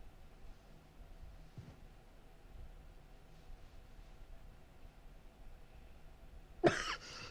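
A woman in a TV drama scene gives a single short, sharp cough near the end after several seconds of quiet room tone.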